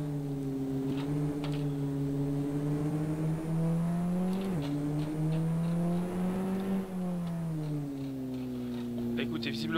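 A SEAT León Euro Cup 2014 race car in Assetto Corsa leaves the Abu Dhabi pits for a lap. Its engine drones steadily and climbs in pitch, with a brief dip like a gear change midway.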